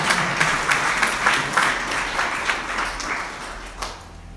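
A church congregation applauds in praise, a steady mid-level patter of many hands with scattered louder claps, tapering slightly toward the end, no speech over it.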